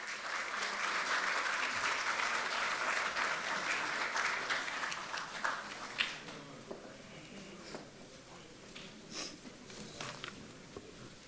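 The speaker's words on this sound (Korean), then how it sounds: "큰 박수로 모시겠습니다" A hall of party members at a Korean National Assembly caucus meeting applauds, a soft, distant sheet of clapping that swells early, then thins into scattered claps and fades.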